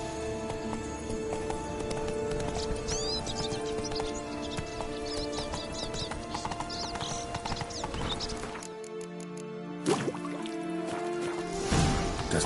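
A horse in the video game The Witcher 3 moves at pace with steady hoofbeats, joined by a whinny, liquid dripping sounds and other game effects toward the end.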